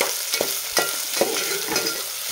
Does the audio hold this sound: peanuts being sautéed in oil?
yes